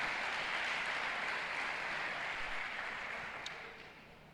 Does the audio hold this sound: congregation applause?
yes